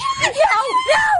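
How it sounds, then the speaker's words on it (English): A girl screams with a wavering, strained voice for just over a second, loud and close, the pitch sliding up and down. "She's just screaming"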